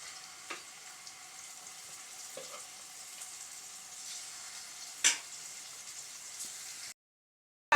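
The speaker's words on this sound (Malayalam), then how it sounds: "അതൊന്ന് വറുത്തെടുക്കാനായിട്ട് ഒന്ന് വെച്ച് കൊടുത്തേക്കുവാണ്" Masala-coated chicken, already cooked, frying in oil in a pan. A steady, fairly quiet crackling sizzle runs alone with a few sharper pops, one louder spatter near the middle, and it stops abruptly at the end.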